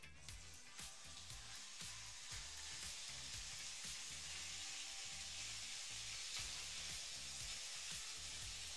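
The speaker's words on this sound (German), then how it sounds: "Wir können das Hack anbraten." Minced meat frying in a hot, smoking pan, a steady bright sizzle with crackling and popping spatter, close and continuous with no talk.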